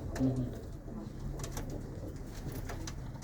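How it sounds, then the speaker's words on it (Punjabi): Tippler pigeons cooing softly in a loft, with a brief low coo near the start over faint background murmur and a few light rustles. "ਕਬੂਤਰ ਹੈ ਟਿਪਲਰਾਂ ਚੋਂ ਹੈ"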